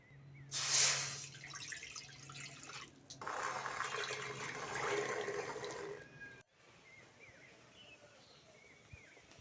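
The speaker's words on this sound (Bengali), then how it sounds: "কড়ার মধ্যে জল দিয়ে দেবো" Water splashes into a wok on a stove in two pours: a short rush, a pause, then a longer steady pour. The sound is quiet and close.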